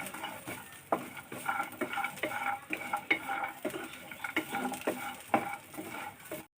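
Coconut pieces fry in a pan for a rice chutney, with a soft sizzle beneath repeated scraping and stirring clicks of a spoon against the pan, close and fairly quiet.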